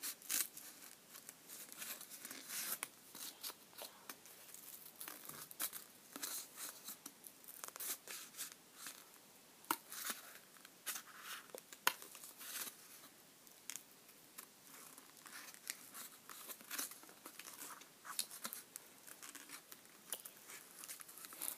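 Scissors snip and rustle through paper while a key shape is cut out for an art binder, a long run of irregular crisp clicks and crinkles close up with no talk.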